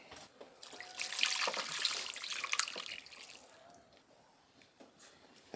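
Water runs into a pot of 15-bean soup with ham, a steady pouring rush that swells for a few seconds and then eases to trickles and drips.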